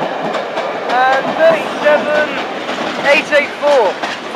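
A passenger train made up of Mark II coaches rolls past a station platform close by, its wheels clattering rhythmically over rail joints with squealing flange tones, loud and steady.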